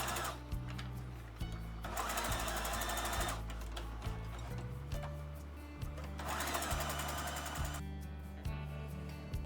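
Sewing machine stitching a tote bag seam at one centimeter allowance, steady rapid mechanical chatter in repeated runs with brief pauses, close and clear, no talking.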